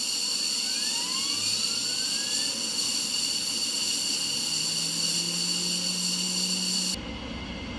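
An F-15C jet engine spooling up in Microsoft Flight Simulator 2020, a loud steady whine and roar with rising tones gliding upward, continuous for about seven seconds before cutting abruptly to a quieter hum.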